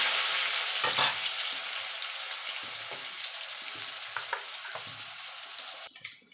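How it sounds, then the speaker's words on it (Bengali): Potato pieces fry in oil with pumpkin-curry spices, giving a steady bright sizzle while a spatula scrapes and stirs the pan in short intermittent strokes. "আলুটা একটুখানি ভাজা ভাজা করে নেব।"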